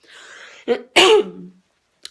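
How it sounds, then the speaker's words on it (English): Two or three harsh coughs in quick succession, close and fairly loud, with a throaty rasp trailing off before a brief click. "sorry about the coughing"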